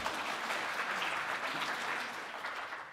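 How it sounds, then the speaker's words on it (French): An audience at a developer conference applauds, a steady, fairly distant wash of clapping that holds evenly throughout and eases off slightly at the end. "On l'applaudit."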